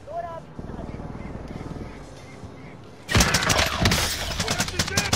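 Intense gunfire breaks out in the video game Warzone, a dense fusillade of rapid shots that starts abruptly after a quieter stretch with game voice lines, then continues loud and crackling to the end.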